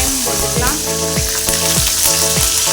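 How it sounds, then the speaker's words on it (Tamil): Curry leaves and onion fry in hot oil with mustard seeds for a sambar tempering. A loud, steady sizzle runs throughout, with music playing underneath. "இப்போ கருவேப்பிலை, வெங்காயம் போட்டுக்கலாம்."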